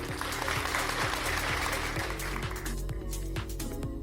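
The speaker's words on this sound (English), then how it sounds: "I'm gonna give that a clap." A clapping applause sound effect plays during a Thanksgiving livestream, a steady, loud patter of many hands clapping for about four seconds with a faint rhythmic thump underneath.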